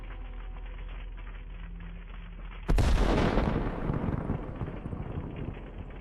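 A single heavy artillery blast hits an M1987 howitzer and its ammunition, a sudden loud boom after a low drone, followed by a long rumbling, crackling roll of secondary fire and debris that slowly fades.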